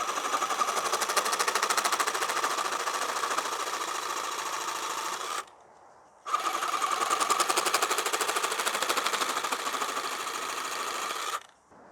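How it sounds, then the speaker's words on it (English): A battery-powered Sawzall reciprocating saw cuts through pipe during greenhouse restoration, a loud, close, steady buzzing rattle that runs for several seconds, stops briefly, then resumes before cutting off. "I'm going to cut this off using my battery-powered Sawzall."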